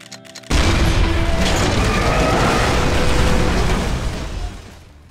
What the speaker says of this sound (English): Now we're going to take a look at some of the shooting mechanics.